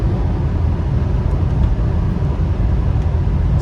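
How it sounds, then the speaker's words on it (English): A heavy logging truck rumbles past on a logging road, a dense broadband roar heard from inside a moving 2002 Subaru Forester over its steady road noise. "Logging truck passing."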